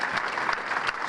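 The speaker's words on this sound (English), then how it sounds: "How about a great big round of applause for all of our individual inductees" Banquet guests at a sports hall of fame enshrinement clap for the inductees, a sustained dense round of applause heard at moderate volume without speech.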